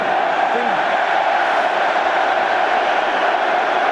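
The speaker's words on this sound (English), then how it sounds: "The countdown begins from the crowd." A large rugby stadium crowd at Ireland v England in the 2011 Six Nations makes a loud, sustained roar while counting down together, dense and unbroken throughout.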